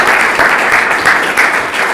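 Steady, dense applause from an audience welcoming a former Scotland Yard Fraud Squad officer to a talk, loud and continuous without a break.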